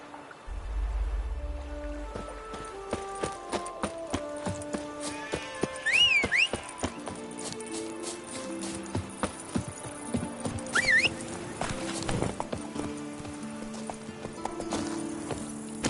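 Steady clip-clop of horse hooves while riding in the video game Witcher 3: Blood and Wine, running throughout with game music, a brief whinny and other effects layered over it.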